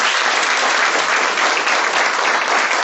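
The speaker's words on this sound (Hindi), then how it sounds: "तो एक बार तालियों से स्वागत करें" A school audience of students claps after a motivational story, a thick, continuous roar of hands that stays loud and uniform from start to finish.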